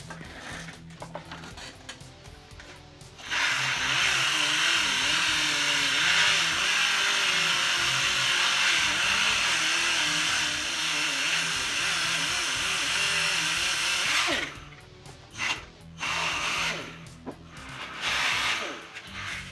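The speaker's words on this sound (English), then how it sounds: "I'm going to take this block of black walnut and the sander, and I'm going to make a bunch of very fine sawdust." A power sander grinding a block of black walnut into fine sawdust, a loud, steady whirring drone running for about eleven seconds, then stopping and restarting in short bursts.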